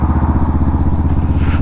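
Honda Rebel 500 motorcycle fitted with a Vance & Hines exhaust, a loud, close, deep burbling exhaust note with a fast, even pulsing throb, heard alone.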